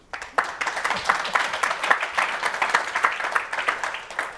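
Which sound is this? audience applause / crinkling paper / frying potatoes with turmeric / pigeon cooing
audience applause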